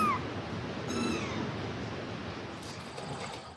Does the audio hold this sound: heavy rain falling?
no